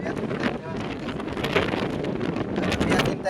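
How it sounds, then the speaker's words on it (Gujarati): Strong wind gusts across an open salt field, roaring and buffeting the microphone steadily, while a person talks faintly underneath. "અત્યારમાં પવન એટલો વાદળ એટલા હે ને કે વાત જ જાવ દો"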